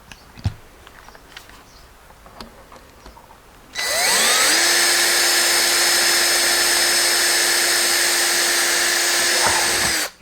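A power drill fitted with a sharp bit starts up after some quiet shuffling and runs loud and steady for about six seconds before stopping, during work on an old car's seat back.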